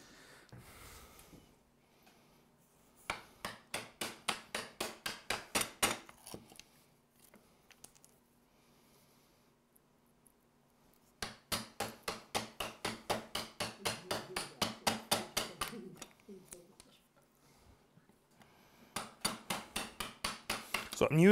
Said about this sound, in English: Now you can come along with a chisel and get the majority of your waste out.